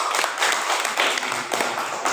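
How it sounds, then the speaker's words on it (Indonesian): Classroom of pupils clapping hands together after a group presentation, a dense steady patter of many hands close by, with little or no talk. "Ya, tepuk tangan dulu."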